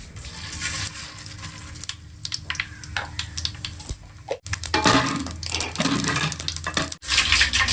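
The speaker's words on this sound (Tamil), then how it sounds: "பொரிஞ்சுன்னு இருக்கு வெங்காயமும் கருப்புலையும் போட்டு போகிறேன்" Onion and curry leaves spluttering and crackling as they fry in hot oil, a dense, busy sizzle with sharp pops that runs steadily and grows louder in the second half, with no talking.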